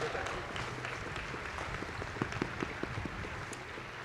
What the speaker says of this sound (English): please rise and cheer